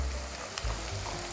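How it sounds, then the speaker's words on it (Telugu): Ginger garlic paste fries in a pan with a close, steady sizzle that stays quiet and continuous, with a faint stirring clunk. "అల్లం వెల్లుల్లి పేస్ట్ కాస్త ఫ్రై అయింది"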